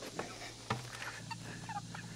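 Seven-week-old chickens cluck and murmur softly nearby on a farm, with a brief louder squawk early on over a steady low hum.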